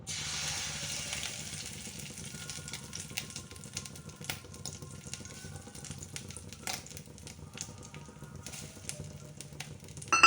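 Fish rubbed with salt and turmeric frying over low heat in a pan, a faint, steady sizzle that runs throughout with small scattered crackles and no voices.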